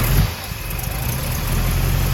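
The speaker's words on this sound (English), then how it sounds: "I like to hear the engine run" A 1965 Chevrolet Chevelle Malibu engine idles with a steady low rumble, close and fairly loud, holding an even pitch throughout.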